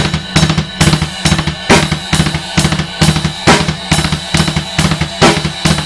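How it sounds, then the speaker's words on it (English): Fast double bass drum kicks on a drum kit, rapid repeated low thumps in steady groups with cymbal wash over them, loud and close, no talking. "when you're used to playing the consecutive 4s on the double bass"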